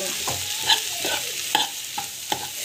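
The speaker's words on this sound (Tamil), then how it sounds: "ஸோ பொட்டேட்டோ வந்து ஸ்மாஷ் பண்ணிட்டோம்" Boiled potato is mashed in a pan of potato and green pea gravy, giving soft, wet squelches and scraping with a few sharp metallic taps of a spoon on the pan. The strokes come close and at an uneven rhythm, with no talking.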